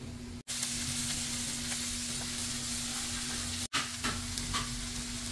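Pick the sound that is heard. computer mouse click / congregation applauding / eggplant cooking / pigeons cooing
eggplant cooking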